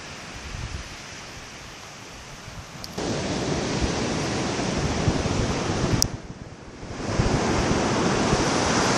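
Ocean waves crash onto the shore at the mouth of the Rivière des Galets, Réunion, in loud, roaring surges, one breaking around three seconds in and another near the end, with wind buffeting.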